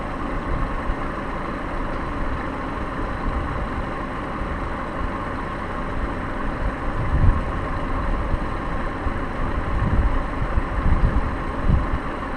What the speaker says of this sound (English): AC pump is kicked on.